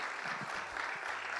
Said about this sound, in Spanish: Una adoración de aplauso.